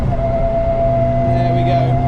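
A Caterham's differential whining while driving, a steady tonal whine over engine and road drone that swells and strengthens toward the end, close and loud with a voice speaking over it.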